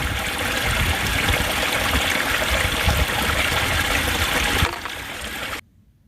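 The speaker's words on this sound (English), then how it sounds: "this is definitely the farthest I've ever walked to get water, but it sure is a nice spring" Water flows from a spring along the Appalachian Trail, splashing steadily nearby, a continuous bright rushing trickle that softens briefly near the end before fading out.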